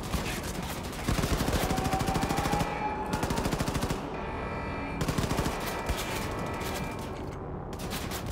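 Rapid, sustained gunfire from a powerful pistol in Wolfenstein 2: The New Colossus rattles close and loud in long dense strings of shots, stopping briefly a few times before starting again.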